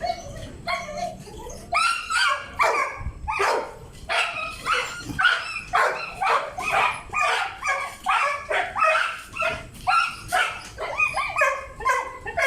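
A dog barks repeatedly and loudly nearby in quick, insistent bursts, with yips mixed in and voices faintly underneath.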